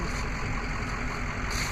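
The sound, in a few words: large truck or bus engine idling nearby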